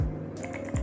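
A couple of quick key presses on a computer keyboard, copying and pasting while editing in CapCut; short, close clicks over a faint low hum.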